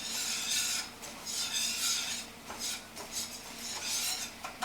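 A spoon scrapes and stirs a thick flour roux in a pot for chicken gravy, with soft rhythmic rasping and light metallic clinks, close and quiet, with no voices.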